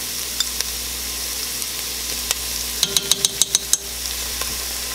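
Minced garlic frying in a soup pot, a soft steady sizzle with a quick run of spoon taps and scrapes against the pot near the end, close by and without talk.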